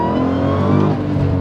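A Dodge Hemi V8 engine runs loud and close, a steady throaty rumble with slight swells in revving across the short stretch, heard alone without any talk.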